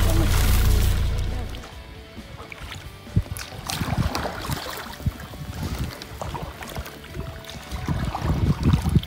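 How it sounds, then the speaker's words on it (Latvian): Paddles splash and slosh through the water as a rowing boat is pulled along, the strokes fairly close with wind noise and people talking over them. "Airējos."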